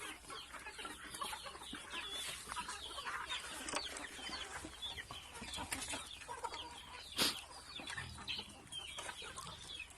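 Free-range farm chickens cluck softly and intermittently while out foraging in the sun, faint and somewhat distant over a quiet outdoor background, with one brief louder knock or call partway through.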